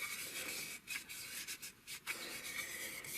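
Oil is rubbed over a small metal tin used for making char cloth, a soft close rubbing with steady back-and-forth strokes and brief pauses.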